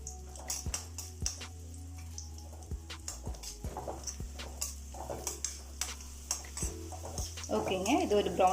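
Cashews and dried grapes stirred in a pan of hot fat for semiya jaggery payasam, a steady faint sizzle beneath repeated sharp ticks of a spoon scraping the metal, with brief voice-like sounds near the end.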